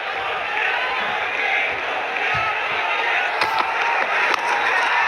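Crowd at a Bangladesh vs Ireland one-day international cricket match, roaring and cheering in a steady, broad wash of noise that holds loud throughout, with a few sharper bursts near the end.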